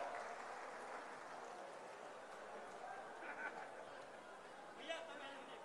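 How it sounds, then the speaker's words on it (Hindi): Applause from a crowd at a political gathering welcoming new party members, a faint, continuous wash of clapping heard from a distance with murmuring and scattered laughter mixed in. "जरा जोरदार तालियों से फिर स्वागत करो"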